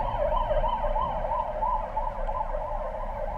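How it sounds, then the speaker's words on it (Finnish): An ambulance siren wails in a repeating up-and-down cycle on a Lisbon street, loud and fairly near, with a low rumble of road traffic beneath it and no voices. "Tuolta tulee ambulanssi."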